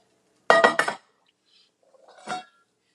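Heavy skillets from a cookware set clatter in a kitchen, with one loud metallic clanking burst followed by a softer knock and scrape about a second later.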